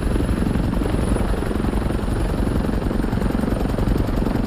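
A video game helicopter thrums with a dense, rapid rotor chop and a steady high whine, loud and continuous throughout with no voices.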